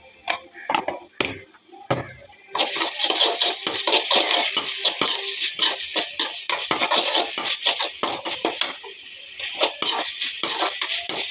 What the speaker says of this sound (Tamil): இப்போ இஞ்சி பூண்டு பேஸ்ட் வந்து நம்ம போட்டுட்டு மசாலா வாசனை போகிற வரைக்கும் நல்லா வதக்கிக்கோங்க.